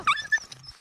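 A rural farm dog in a remote mountain village lets out a short, close growl with a brief whine at another dog, then goes quiet.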